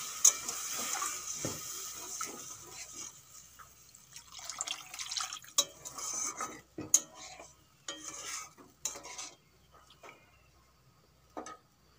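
Water poured into sizzling fried spice masala in a pan for Bengali egg curry, giving a wet hiss with stirring, scraping and clinking of a utensil against the pot, fairly soft and close, with no talking.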